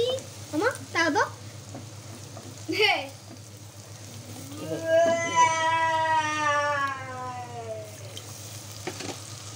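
Dried Cox's Bazar ribbonfish (shutki) fries in a pan with a steady, close sizzle and some stirring, while a cat meows and voices talk over it.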